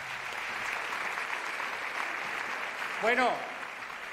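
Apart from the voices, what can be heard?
applause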